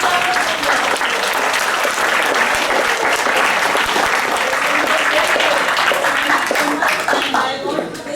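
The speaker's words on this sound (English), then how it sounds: "Big round of applause." A school assembly audience applauds steadily for about eight seconds, a dense, loud wash of clapping with some voices and cheers mixed in, fading slightly at the end.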